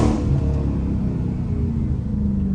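A Dodge Hellcat muscle car driving during a hurricane, its engine a deep, loud, steady rumble from inside the cabin with a brief rise in revs at the start.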